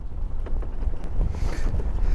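Wind buffets the microphone out on Draycote Water, a low, uneven rumble with gusty surges and faint knocks, continuing without speech.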